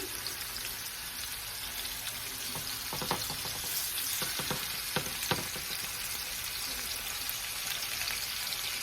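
Pork chops sear in a hot pan with a steady close sizzle and crackle, scattered sharp spits and pops, and a little faint handling noise.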